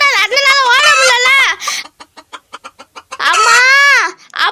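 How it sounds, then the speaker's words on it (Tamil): A chicken being caught squawks loudly and shrilly, breaks into a rapid run of short clucks, then lets out another long, harsh squawk, all close up. "கோழியை நானே பிடிச்சிட்டேன்"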